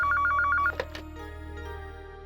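A telephone rings indoors with a quick, repeating electronic trill that cuts off abruptly after under a second, followed by a few faint clicks and quiet room hum.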